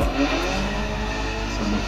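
Racing car engine in a Need for Speed PC driving game, a steady loud drone held without pause, with tire noise and rising revs during a chase behind another car.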